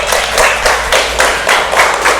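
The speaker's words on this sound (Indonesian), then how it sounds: "Boleh tepuk tangan dong buat Rizky." Steady group clapping, a crowd applauding together in even, repeated bursts with no talking over it.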